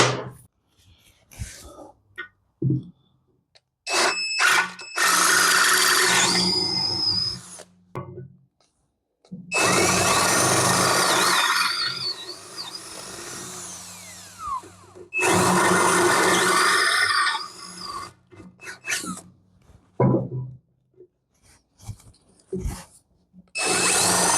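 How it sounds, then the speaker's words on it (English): A power drill whines loudly in three long bursts, enlarging factory holes on a Dana 44 axle, with quiet pauses and small clatters between each run. "So let's drill those out."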